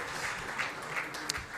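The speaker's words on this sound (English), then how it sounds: "Round of applause, ladies and gentlemen." Audience applause at a sports awards ceremony: a steady wash of clapping across the hall, fairly distant and even, with no voices on top.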